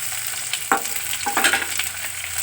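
Chopped garlic and onion hit hot oil with black cumin seeds in a pan for a potato and small fish chorchori, giving a steady close sizzle broken by a couple of sharp stirring scrapes.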